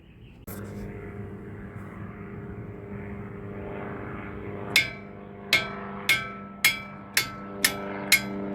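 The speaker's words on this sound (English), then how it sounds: "Watch your caliper brake line as you tap this bottom bolt." Seven sharp metallic hammer taps land on the bottom strut bolt of a 2010 Toyota Corolla, evenly spaced and close, over a steady droning background hum that runs through the whole clip.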